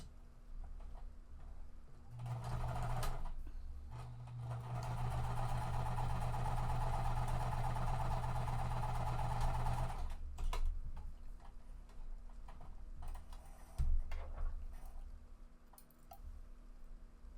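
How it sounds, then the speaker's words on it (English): Sewing machine stitching quilt pieces together one at a time, a steady mechanical whir running for several seconds in the middle, with quieter handling before and after. "for the tutorial I am going to sew them one at a time"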